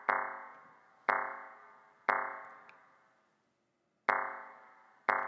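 A modular synth driven by a Temps Utile clock module, its LFSR length turned up to 16, fires bright plucked tones that decay quickly. There are five separate hits at irregular intervals, with a gap of near silence in the middle.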